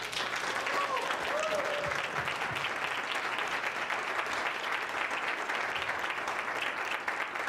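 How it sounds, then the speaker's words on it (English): Sustained audience applause fills a large crowd at a Philadelphia event, a steady dense wash of clapping at moderate distance that holds evenly from start to finish with no voices breaking through. "So we owe you a big round of applause"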